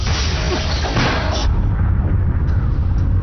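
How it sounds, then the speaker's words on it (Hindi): A heavy explosive blast in a spacecraft airlock with a rushing roar, followed by a low rumbling aftermath and faint electronic chirps. "एयरलॉक में विस्फोट हुआ है।"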